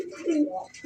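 Pigeon cooing from two kept pigeon breeds, one black, in a fancy and racing pigeon setting; a short, close, low throaty coo that swells and fades within under a second, with no talk.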